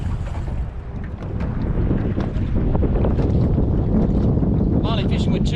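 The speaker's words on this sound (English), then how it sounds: "Very windy day it's been today." Strong wind buffets across open water on a fishing outing, a heavy continuous roar with gusty microphone rumble and splashing, loud and close throughout, with a brief faint sound near the end.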